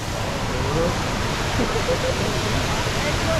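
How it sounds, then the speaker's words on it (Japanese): The indoor Jewel waterfall at Changi Airport in Singapore pours in a loud, constant rushing roar, with faint crowd murmur and brief voices underneath. "はい、こちらが昼間のジュエルの滝になります。"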